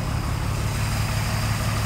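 A 4.3 OMC Cobra engine in a 1990 Four Winns 180 Horizon boat idling at about 700 RPM, a steady low throbbing rumble, close and continuous, with no talking.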